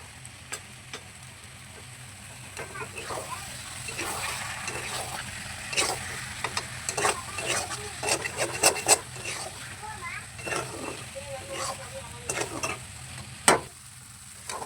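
Pumpkin and potato chorchori sautéed in a pan with a little water, a soft sizzle under irregular spoon scrapes and clacks that grow busier midway, while someone talks throughout.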